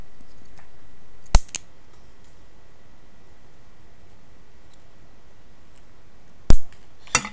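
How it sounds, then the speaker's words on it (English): Cutters snip the leads of a rebuilt microcoil on a Fasttech Fatty v3 vape: two sharp, isolated clicks several seconds apart, each followed by a faint tick, with near silence in between. "so we're now going to snip leads"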